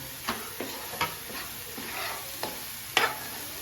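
Spiced ingredients sizzle quietly in a pan for a Konaseema-style fish curry, with a handful of soft stirring scrapes and clinks spaced through a low, steady frying hiss; no one speaks.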